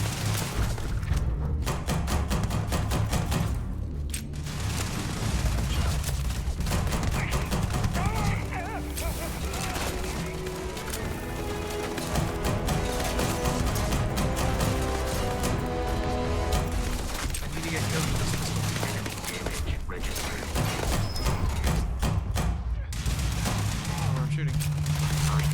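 Dense, continuous gunfire in the Starfield space game, rapid bursts and booms layered with heavy mechanical combat noise throughout, with a player's voice occasionally talking over it.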